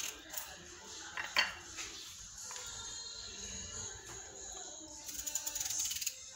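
Potatoes being arranged in a tagine pot, with soft scrapes and light ceramic and metal clinks, close and sparse, ending in a brief run of rapid clattering taps.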